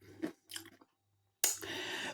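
Close, quiet crunching of air-fried Lidl straight cut chips, a couple of short bites and chews separated by a pause, then a louder burst of crisp crunching.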